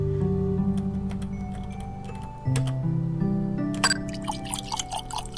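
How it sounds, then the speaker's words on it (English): Water scooped into an empty cup in a video game, a few light, close tonal plinks and a bright splashy trickle over sustained background game music. "Scoop some water into the empty cup."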